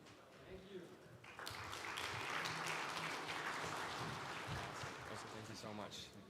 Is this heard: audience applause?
yes